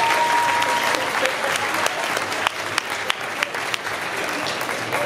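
Steady applause from an audience at a cosplay event, KAMOCON 2019, a dense wash of clapping that fills the whole stretch with a few sharper individual claps standing out, with a faint tone and murmur beneath.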